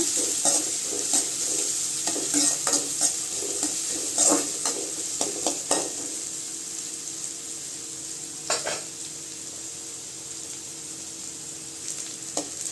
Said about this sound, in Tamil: வெங்காயம் சேர்த்துக்கலாங்க வெங்காயம் நல்லா வதங்கணுங்க